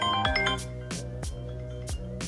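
An iPhone 13 Pro's loudspeaker plays a melodic ringtone of bright, bell-like chiming notes in a quick repeating pattern, heard close and fairly clear with no talking.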